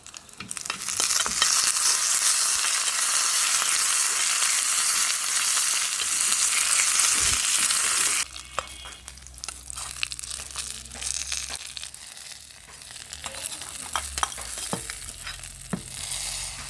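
Mustard seeds, dried red chilies and curry leaves sizzle and crackle in hot oil for a mango pulissery curry, a loud bright hiss for about eight seconds that then drops to quieter popping and spattering.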